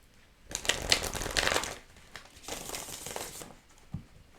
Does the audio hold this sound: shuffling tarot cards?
yes